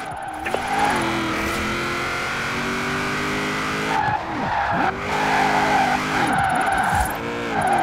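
Car drifting in the video game Forza Horizon 4, with long loud tire squeals that rise and fall in pitch over a revving engine, repeating through several slides.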